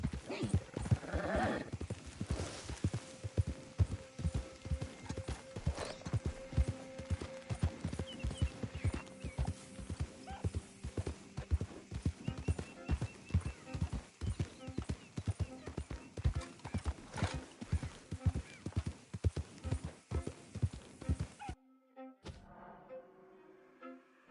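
Hooves of a galloping horse in the video game Red Dead Redemption 2 pound in a steady, rapid rhythm for over twenty seconds, loud and close, with a brief whinny near the start and a sudden cut near the end.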